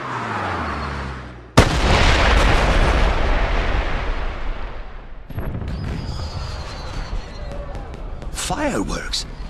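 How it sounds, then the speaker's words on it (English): Fireworks exploding in the video game 007 Blood Stone, a sudden loud blast followed by a long crackling roar, then a series of smaller pops and whistling bursts near the end. "Fireworks? Did you know there were going to be fireworks?"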